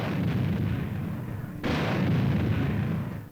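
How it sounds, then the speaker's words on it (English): Military artillery brigade guns firing blank ammunition during a field maneuver, a sustained rumbling roar with a sharp, loud boom partway through, heard without voices. "A simulated mission is ordered, and blank ammunition puffs from the muzzles of the big brigade's weapons."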